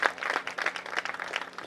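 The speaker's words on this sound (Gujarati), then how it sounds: "પૂજ્ય વક્તાશ્રીને જોરદાર તાળીઓથી આપણે એકવાર વધાવીએ." Audience at a Shrimad Bhagavat katha gathering claps in welcome for the speaker, a short burst of dense, steady applause at moderate distance.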